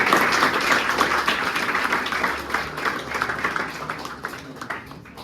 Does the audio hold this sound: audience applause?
yes